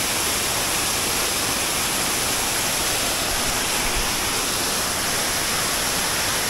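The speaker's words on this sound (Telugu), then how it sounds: "సో 2 వాటర్ ఫాల్స్ ఒకటే ప్లేస్లో." Two blue-water waterfalls side by side at Dulapur fill the clip with a steady, loud, broadband rushing roar that holds unchanged throughout, with no talking.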